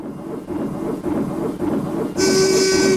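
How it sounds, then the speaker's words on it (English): Puffa, the dock railway steam engine in the TUGS children's harbour cartoon, rolls in with a steady rhythmic chugging rumble, then a loud sustained whistle blast comes in near the end, without any talking. "Maybe you can go and ask that dock railway steam engine, Puffa."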